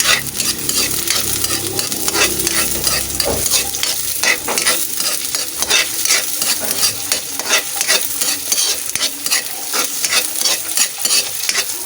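Whole onion frying in hot oil in a pan while being stirred, a loud continuous sizzle with repeated scraping strokes throughout, no talking.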